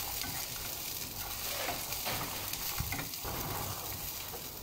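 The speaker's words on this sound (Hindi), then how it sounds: "पहले मैं काजू और अखरोट को फ्राई करूँगी तकरीबन 2 मिनट के लिए।" Cashews and walnuts fry in hot oil, giving a soft, continuous sizzle with light stirring scrapes throughout, fairly quiet and close, with no talking.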